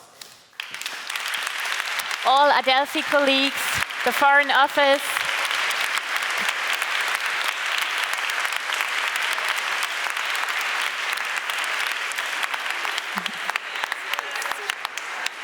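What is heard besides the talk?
big applause for conference organizers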